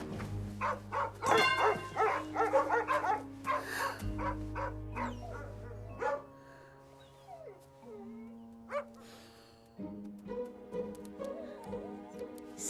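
Dogs bark and yip in a Christmas family film scene, several short barks scattered over a swelling orchestral music score, fairly close but partly masked by the music.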